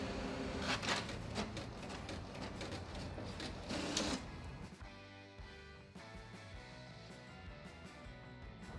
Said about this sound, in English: We're gonna print the same thing. That. Control P. Print.